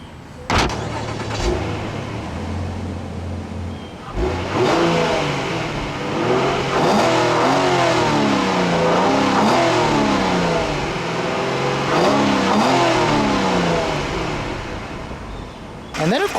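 A 2012 Mazda6 V6 GT's 3.7-liter double overhead cam V6 with variable valve timing revs repeatedly through its exhaust, a loud engine note climbing and falling in a series of close-up blips.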